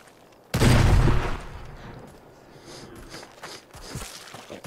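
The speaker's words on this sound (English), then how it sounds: "Fine, let's blow that one up." An explosion goes off in the video game Arizona Sunshine, a sudden loud boom that rumbles for about half a second and then fades into quieter clatter and debris.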